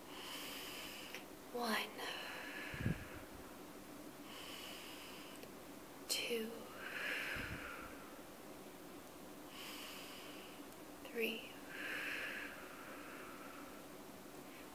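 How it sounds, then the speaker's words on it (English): Several soft, slow breaths are drawn in and let out by a group at a morning circle, rising and fading every few seconds under low background hiss. A voice counts quietly between them. "take 3 soft, slow, mindful breaths"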